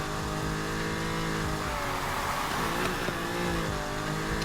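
Engine of a BMW M2 in the Need for Speed Heat racing game, a loud continuous roar that rises and shifts in pitch as it revs under nitrous boost, with no talking.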